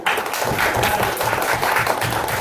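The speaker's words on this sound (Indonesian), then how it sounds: "Oke, kita kasih aplaus dulu." An audience applauds at a teacher-training event, dense steady clapping at close range that lasts the whole short stretch.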